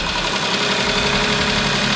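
A Ferrari engine fitted in a wrecked Alfa Romeo runs at a steady idle, loud and close with a dense rumbling burble and no talk over it.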